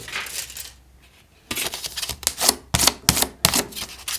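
A series of sharp, crisp snips and clicks, irregularly spaced, close up and fairly loud, like scissors working through paper.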